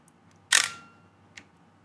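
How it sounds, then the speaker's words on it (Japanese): Pentax SL film camera fires a single crisp mechanical shutter release, close and sharp against near silence, followed by a fainter, shorter click a moment later. "ではペンタックス SL のシャッター音、こちらでございます。"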